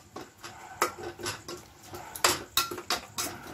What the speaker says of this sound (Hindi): जितना भी गोश्त है हम सबको अच्छे से ऐसे चम्मच से तोड़ लेंगे।